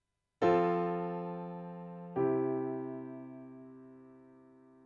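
Two sustained piano-like chords forming a plagal cadence, the four chord resolving to the one chord in a gentle closing move, each struck once and left to ring and fade.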